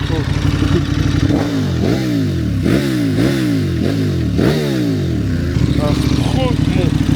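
A KTM 1290 Super Adventure S motorcycle accelerates hard, its engine note climbing in about five rising surges through the gears, loud and close, then settling into a steady idle-like rumble.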